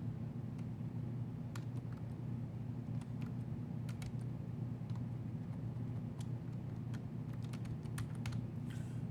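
Typing on a computer keyboard during a Linux session, scattered quick key clicks in irregular bursts over a steady low hum, fairly quiet and with no one talking.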